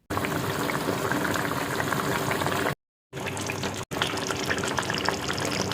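Bengali-style pomfret fish curry bubbles and simmers in a pan, a steady close hiss of boiling liquid with two brief gaps of silence and no voices.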